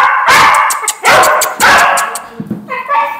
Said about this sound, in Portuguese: Tem outro cachorro preto ali.